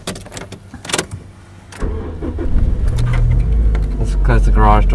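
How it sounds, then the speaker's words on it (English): A car engine cranks and catches inside a garage, a short starter whir followed by a loud steady idle, with people talking over it. "Alright, so we're just going to start the car now."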